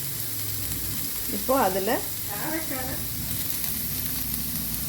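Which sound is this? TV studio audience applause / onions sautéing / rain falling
onions sautéing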